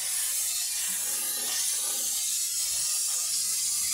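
Chopped onions frying in a hot pan for ginisang ampalaya, a steady broadband sizzle that stays close and even from start to finish, with no talking over it.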